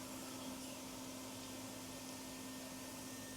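A MIG welder lays a bead on the sheet-metal firewall of a fire-damaged, LS-swapped square-body C10 truck, running too hot and burning through, giving a continuous, fairly quiet hiss with a low steady hum.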